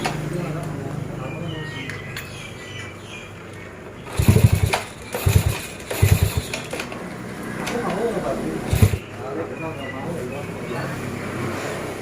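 A Yamaha Jupiter Z1 motorcycle, converted from carburettor to fuel injection with a Juken 5 ECU, is cranked in several short, loud bursts that fail to catch, over a steady background hum with faint voices.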